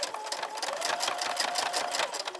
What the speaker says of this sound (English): Stitch it over halfway, do a double stitch.